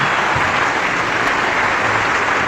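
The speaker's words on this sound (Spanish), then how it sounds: "Aplauso, aplauso." A live audience at a Catholic-Protestant biblical debate applauding steadily, a dense, even wash of clapping lasting throughout at close range.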